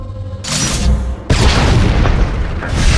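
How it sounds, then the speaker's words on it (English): A deep, booming sci-fi blast of flux cannons in Star Wars: The Old Republic, followed by a second, louder explosion that rumbles on, heavy and close, with no talking. "Sound of my flux cannons incinerating one of your capital ships."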